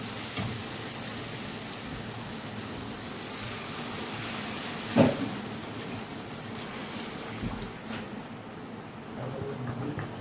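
Water is poured into a hot pan of lata (snakehead) fish curry with boiled potatoes, and a steady broad hiss of sizzling continues throughout with one brief louder splash partway.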